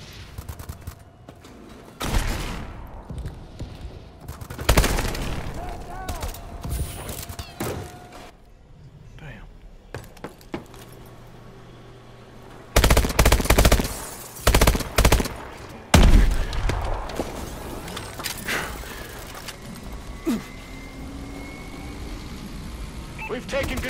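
Bursts of gunfire ring out in a Call of Duty: Advanced Warfare team deathmatch, with loud clustered volleys in the middle of the stretch set among mechanical game noise and short voice lines.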